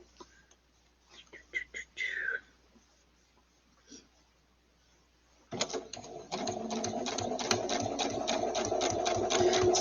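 A sewing machine runs steadily, stitching binding onto a quilt, its fast even needle rhythm starting after a few soft handling noises and continuing close and loud to the end.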